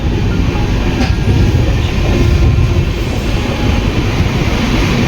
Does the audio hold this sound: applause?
no